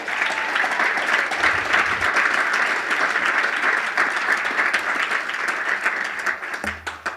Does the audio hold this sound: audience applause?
yes